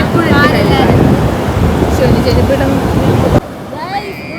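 Sea waves wash steadily onto a beach, a loud continuous roar of surf buffeted by wind noise on the microphone, dropping off sharply near the end to a quieter wash.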